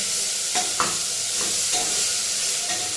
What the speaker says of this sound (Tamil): வெங்காயம் தக்காளி போட்டு நல்லா வதக்கிட்டு